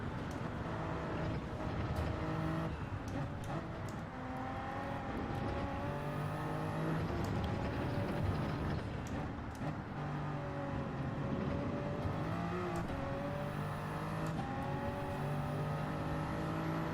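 Toyota Supra race car engine in Gran Turismo 7, a steady loud drone with rising and falling revs and gear changes through an online Nürburgring race, continuous throughout.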